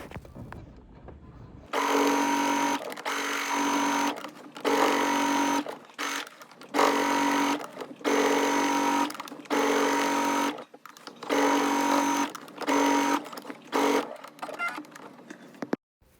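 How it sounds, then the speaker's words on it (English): A sewing machine top-stitches around a tennis bag lining, running in repeated steady bursts of about a second or two each, separated by short pauses, close and fairly loud with no talking. "now I'm top stitching around the lining"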